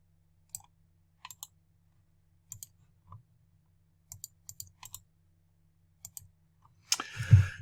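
A computer mouse is clicked in short sharp pairs and single clicks, spaced irregularly, close and faint in a quiet room, ending with a louder rustling bump.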